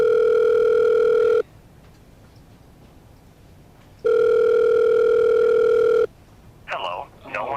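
A telephone dial tone sounds steadily and fairly loud, cuts out for a stretch of quiet, then returns for a second long tone before a voice begins speaking at the end.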